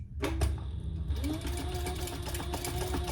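A sewing machine stitching a wallet with a shortened stitch length, running steadily and close with a continuous whirring hum and rapid needle clatter throughout.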